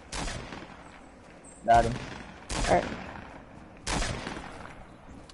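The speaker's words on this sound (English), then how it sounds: "I heard the guy with an SMG" Bursts of SMG gunfire in the Fortnite video game ring out as several sharp, loud volleys spaced a second or so apart, with a player talking briefly between the shots.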